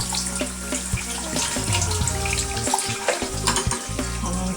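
A fish rinsed under a running kitchen tap: a steady splashing hiss of water hitting the fish and sink, with small irregular splatters and knocks throughout, no talking.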